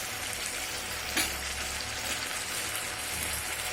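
Spice masala with chopped tomato cooks in salted goat fat over a medium flame. A steady, even sizzle of frying holds from start to finish, with no voices.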